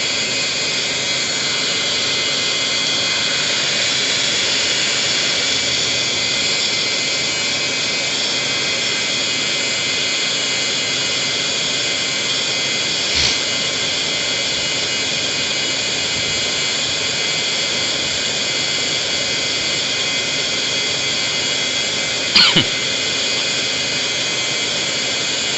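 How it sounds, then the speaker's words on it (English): A Suburban NT-30S RV propane heater's fan whirs in a steady, even drone, with two faint clicks breaking in partway through. "that'll keep the fan spinning once the thermostat shuts off to cool down the unit"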